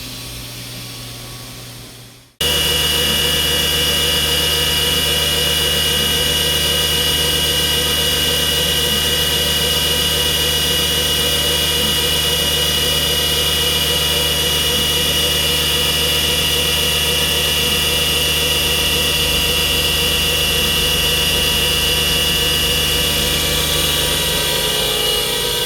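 After a short quiet start, a solid carbide cutter bites into a silicone injection mold and the machine settles into a loud, steady, unbroken whine and hum that runs on alone.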